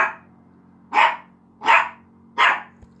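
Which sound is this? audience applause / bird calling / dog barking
dog barking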